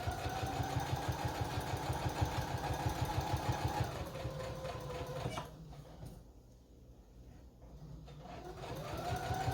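A sewing machine stitches and backstitches pockets onto an apron, running in a steady rapid rhythm for about four seconds, slowing and pausing, then starting up again near the end.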